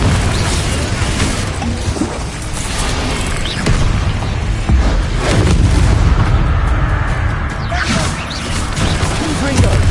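Booming fiery blasts from the Confringo explosion spell in Hogwarts Legacy, loud and continuous, with dense rumbling bursts layered over game noise and a voice.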